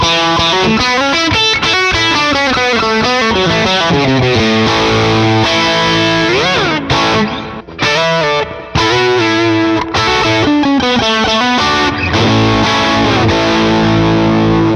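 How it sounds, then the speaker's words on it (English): A loud, thick saturated guitar tone through a Sleep Champion Horse Cult pedal, gain low and volume high, plays a sustained, swelling chord passage with a few brief dropouts, with no voices. "So you get a nice, really big saturated sound."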